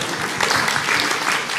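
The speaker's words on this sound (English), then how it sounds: "So round of applause." An audience at a dialogue event gives a loud, dense round of applause, many hands clapping close and continuous for the whole moment, with no talk over it.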